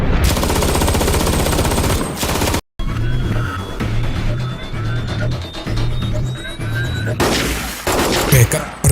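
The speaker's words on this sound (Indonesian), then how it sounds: "rombongan yang membawa Beckett dihadang dan ditembaki" Film-scene gunfire as an ambush hits a convoy: loud, dense shooting and bursts dominate, with a brief cut to silence, rumbling action noise and shifting tones over a heavy soundtrack.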